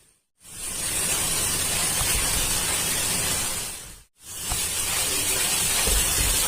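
Jackfruit being stirred in a hot pan makes a loud, continuous hissing sizzle that briefly cuts out, then resumes just as strongly.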